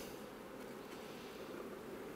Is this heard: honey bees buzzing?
yes